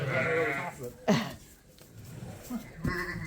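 Ewes penned with their lambs bleat in two close, loud calls, one at the start and another at the end, with quieter shuffling and a brief knock between them.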